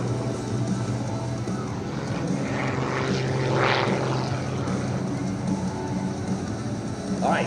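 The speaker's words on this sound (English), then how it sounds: "keep an eye now on Stewart as he gets ready to bring the aircraft back around again" Skip Stewart's propeller aerobatic airplane at the 2025 Wings Over South Texas Air Show drones steadily as it flies low, with a swelling, pitch-shifting pass in the middle over constant engine noise.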